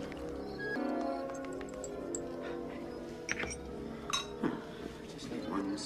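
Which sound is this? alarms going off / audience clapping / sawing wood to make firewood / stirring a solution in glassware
stirring a solution in glassware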